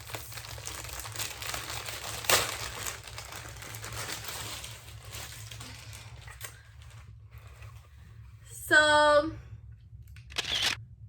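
Crinkling plastic packaging of braiding hair being handled for several seconds, with sharper rustles and a brief tearing burst near the end, close to the listener.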